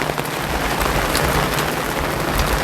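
Heavy rain beats down during a storm at a campsite, a loud, dense patter of drops drumming steadily on surfaces throughout.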